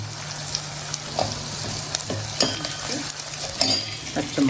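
Curry leaves and green chillies frying in oil for a vela fish curry, a bright, continuous sizzle with sporadic spatters and light clinks of a utensil against the pan.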